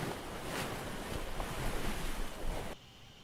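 Waves push air through the tubes of a sea organ, a broad close rush of surf and windy breath that swells and then cuts off abruptly near the end.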